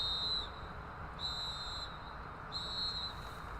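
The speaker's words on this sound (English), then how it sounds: "It was 3 whistles." A referee's whistle ends a high school soccer match with three shrill blasts, the first two longer and the last shorter, spaced about a second apart over a low crowd murmur.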